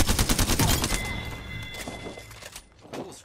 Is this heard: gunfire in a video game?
yes